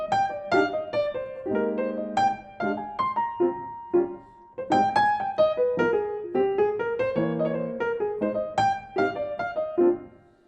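Solo piano plays Auld Lang Syne at a quicker tempo: bright melody notes over rolling chords, rhythmic and unaccompanied, moving steadily with no voices.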